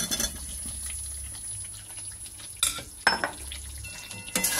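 Potato and cauliflower go into a spiced masala gravy and are stirred and fried in a pan. A low, steady sizzle runs underneath, broken by several sharp scrapes and clanks of a spoon against the pot.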